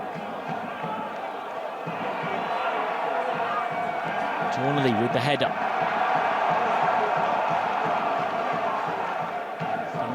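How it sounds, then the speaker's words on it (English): A steady roar from a stadium crowd, with travelling Crawley Town supporters cheering at a Peterborough United match, under a commentator's voice. "Those travelling fans have something to cheer."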